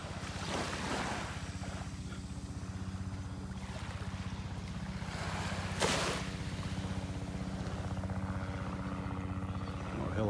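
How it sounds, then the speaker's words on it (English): A helicopter flies over a beach in North Naples, Florida; its faint, low, rhythmic rotor thumping pulses steadily throughout beneath gusting wind noise and the wash of surf. "More helicopter flying by here."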